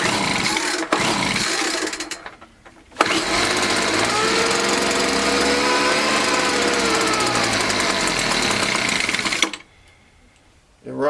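Craftsman 4-stroke weed eater running on choke only, a loud buzzing engine drone that cuts out briefly, restarts and holds a steady rattling whine before dropping away, with some voice mixed in.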